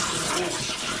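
Vinegar water being dumped out of a container of soaking produce during meal prep, a brief, steady gushing pour of liquid, close and full, lasting about a second.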